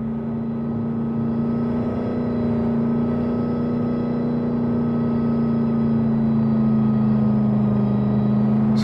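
A car drives steadily in a video game, its engine a constant mid-pitched hum with a slight rise in revs toward the end, loud and continuous with no talk.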